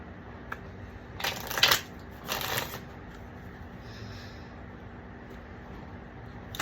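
Zen Osho Tarot cards shuffled by hand in two short riffling bursts, close and moderately loud, followed by quiet room tone.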